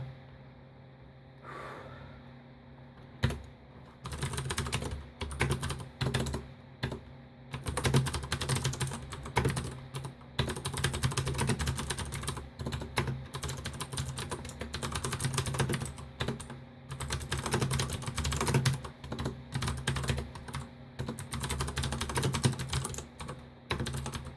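Rapid clicky typing on a mechanical computer keyboard with blue switches and dimmed LED backlight, dense continuous keystrokes close up with brief pauses, no talking.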